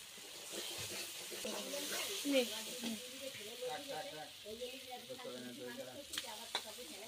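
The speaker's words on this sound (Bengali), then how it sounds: "মশলা আমার খুব সুন্দর করে কষানো হয়ে গেছে, আমি এবারে মাংস দিয়ে দেবো।" Duck meat frying in cooked-down spice paste gives a steady, moderate sizzle with stirring scrapes in the pan, and a voice talks faintly in the background.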